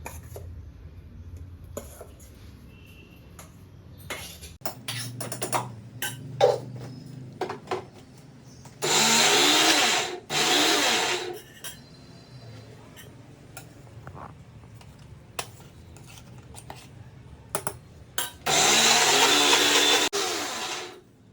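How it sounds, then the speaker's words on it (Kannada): A mixer grinder finely grinds grated coconut without any water, in two loud, steady whirring bursts of several seconds each, with clinking of kitchen utensils and light handling noise in between. "ಈಗ ಕಾಯಿ ತುರಿನ ಮಿಕ್ಸರ್ಗೆ ಹಾಕ್ತಾ ಇದ್ದೀವಿ. ಮೊದಲು ಕಾಯನ್ನು ನುಣ್ಣಗೆ ರುಬ್ಕೋಬೇಕು."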